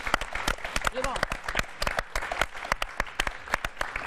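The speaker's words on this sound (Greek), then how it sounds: "θέλω να δώσουμε ένα ζεστό χειροκρότημα" A studio audience on a Greek talk show claps warmly. The applause is dense and rapid, with individual sharp claps throughout. A voice briefly calls out near the start.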